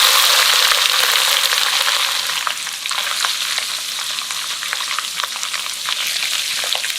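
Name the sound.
salty fish frying in hot oil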